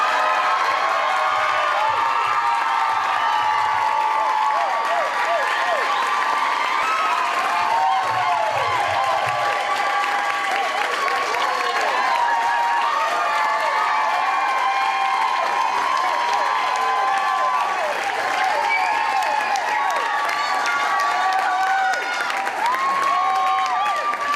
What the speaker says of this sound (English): So please give the biggest round of applause you've ever mustered for Mr. Bob Barker.